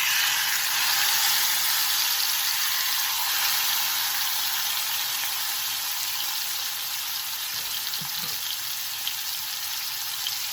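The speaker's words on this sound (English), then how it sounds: "So we'll go ahead and add our steak now." Spicy Korean skirt steak sizzles on a grill in a steady, bright hiss that holds at an even level throughout, with a few faint clicks near the end.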